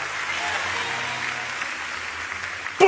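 A church congregation claps in steady applause during a worship service, a dense even patter of many hands sustained throughout, mixed with a singing voice, ending in a louder burst.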